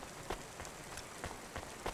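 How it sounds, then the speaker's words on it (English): Steady rainfall pours over a neon-lit city street in the cyberpunk video game Cloudpunk, a constant patter with occasional louder drops and splashes, no voices. "it seems like it's perpetually raining"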